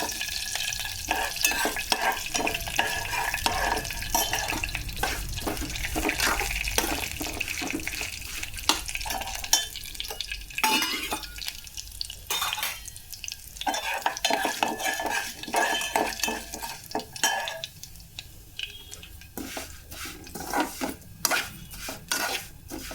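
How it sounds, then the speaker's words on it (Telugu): Upma tempering frying in a pan while a spoon stirs and scrapes repeatedly against the metal, sharp clatters over a constant close sizzle, no voices. "కొంచెం రెడ్గా వచ్చేదాకా వేయించాలండి."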